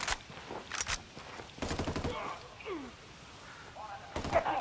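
Gunfire in Ghost Recon Wildlands, a few sharp bursts of shots spaced apart, mixed with a voice talking over the game sounds.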